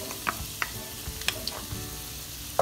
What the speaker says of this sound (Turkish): Soğanım biraz kavrulsun.